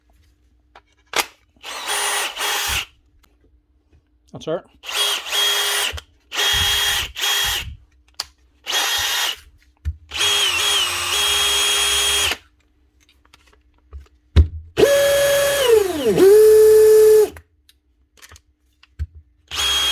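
DeWalt DCD796 cordless drill run in drill mode in a series of short bursts of whining motor spin with pauses between, one burst sweeping up and down in speed; a brief spoken remark comes early.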